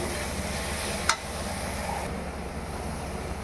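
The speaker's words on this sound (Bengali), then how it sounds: "দেখুন সুন্দর করে আমি মাংসের মশলাগুলো কষিয়ে নিয়েছি।" Meat masala for a spicy Indian pork curry frying down in a pan, a soft continuous sizzle with one sharp utensil clink early on, fading slightly toward the end.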